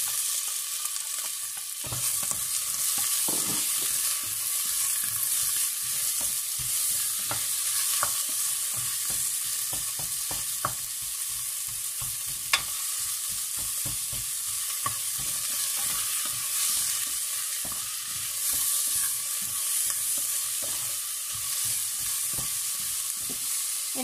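Onion frying in a pan for monggo with spare ribs, a steady loud sizzle running throughout with scattered clicks of a spatula stirring, no voices.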